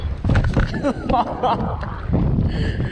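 Strong gusting wind roars and buffets the microphone during trout fishing, a continuous low rumble throughout, with a voice talking and exclaiming over it.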